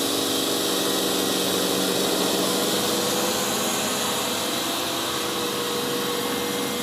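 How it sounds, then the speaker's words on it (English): An upgraded iRobot Roomba robot vacuum runs continuously with a loud, steady broadband whir and hiss, close by and unchanging, with no talking. "Next is the upgraded Roomba."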